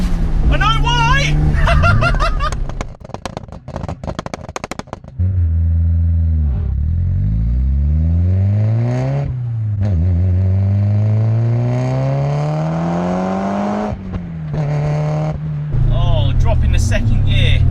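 A 400 BHP Nissan Pulsar GTI-R engine revs loudly through the gears while driving, with rising pitches and gear-change dips, as someone talks over the noise.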